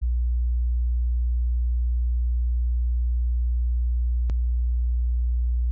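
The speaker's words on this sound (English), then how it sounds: "That was playing back at twice the speed, so the 30 hertz tone went up to 60 hertz." A steady, low 30 Hz test tone played back at double speed so it sits at 60 Hz, a constant unbroken hum lasting about six seconds with a single sharp click near the end.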